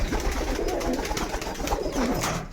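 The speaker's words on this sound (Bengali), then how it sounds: "এই যে দেখুন দুটো পায়রা ম্যাটাজ পায়রা কিন্তু এগুলো।" Matajpigeons coo in a steady, low, continuous murmur at close range, with several birds overlapping and no talk.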